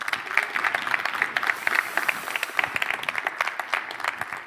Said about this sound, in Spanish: Pablo Artuso, un fuerte aplauso.